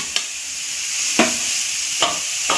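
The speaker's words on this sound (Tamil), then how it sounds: "இப்போ நல்லா போட்டு கேரட்டை வதக்கி வதக்கி எடுத்துக்கலாம்." Steady frying sizzle as carrots sauté in a pan, broken by four sharp clacks of a spatula stirring, close and fairly loud.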